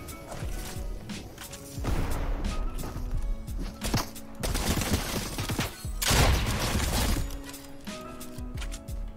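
Dense gunfire from the video game Fortnite keeps rattling in loud, overlapping bursts and volleys with sharp impacts, nearly without a break.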